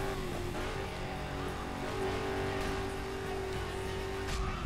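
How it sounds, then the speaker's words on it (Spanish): A car in the racing video game Burnout Paradise drives steadily, its engine holding a sustained drone with faint tire and road noise, continuous and fairly quiet with no talking. "Oigo un coche... vale, es el que está delante."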